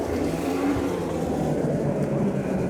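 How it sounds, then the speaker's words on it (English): Snowmobile riding on grass in a town park, a steady droning engine rumble at moderate distance, continuous and even throughout with no pauses. "So this guy's out riding his snowmobile on the grass."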